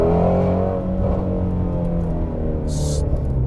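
A Ford Shelby GT350R sports car drives along, its engine drone and road roar steady and loud from inside the cabin, with no talking.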